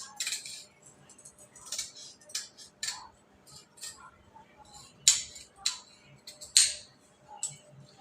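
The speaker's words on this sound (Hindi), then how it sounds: "अब इसकी कर देते हैं हम कटिंग।" Scissors snip through blouse fabric in a series of short, crisp cuts at irregular intervals, fairly close and quiet, with soft handling noise between the snips.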